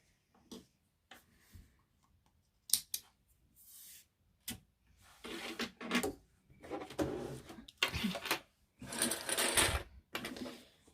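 A sewing machine basting a stitch into fabric lining, running in short, stop-start bursts of rapid mechanical whirring and clatter, close and fairly quiet with brief clicks in between.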